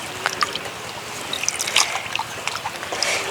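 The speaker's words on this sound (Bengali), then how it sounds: "লাউ পাতাগুলো এবার ভালো করে ধুয়ে নেব।" Bottle gourd leaves being washed in water, with light splashing, trickling and sloshing close by at a soft, steady level, alone without talk.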